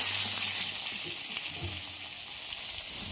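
Pieces of pointed gourd (potol) frying in hot oil, salted and sprinkled with turmeric, sizzling loudly and continuously in a short burst with no talk.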